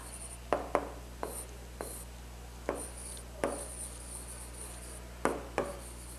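Pen strokes on paper are close and soft as a maths answer is written by hand: a series of short scratchy marks in small clusters over a steady low hum, with no talking.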